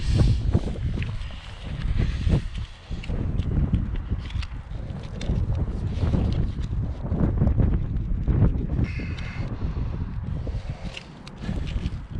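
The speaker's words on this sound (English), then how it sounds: "Especially with the wind blowing, which it never stops here" Wind blows steadily outdoors beside a ditch in open dirt ground, a continuous low rumbling buffet with gusty surges, loud and close against the microphone throughout.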